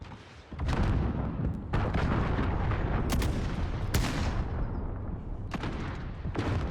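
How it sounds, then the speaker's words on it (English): Sustained gunfire and explosive bursts from the video game Call of Duty Modern Warfare, loud and dense throughout, with several sharp blasts standing out over a continuous battle roar. "See the gunfire, I don't know what's causing that."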